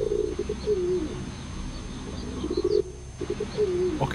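Pigeon cooing in the point-and-click game Gabriel Knight 2: The Beast Within, soft repeated coos in two clear phrases with a brief gap, close and alone over faint ambient background.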